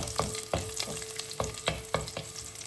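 Shallots, dried chillies and curry leaves frying in oil for banana stem thoran, a steady sizzle punctuated by regular scraping stirs of a spoon against the pan.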